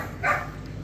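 A puppy gives a single short bark, brief and moderately near, against quiet outdoor background.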